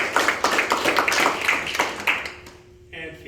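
Audience clapping for a group of middle-school and early high-school youngsters, a brisk burst of close applause that fades after about two seconds into quiet.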